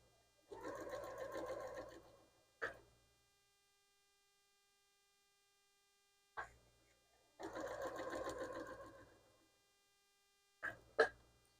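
A domestic sewing machine stitches a quilt block in two short bursts of fast, whirring needle strokes, each a couple of seconds long, separated by quiet pauses and punctuated by brief clicks of the needle stopping down.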